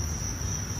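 Crickets on a cricket farm chirp in a constant, shrill, unbroken trill, close and steady, with no voices.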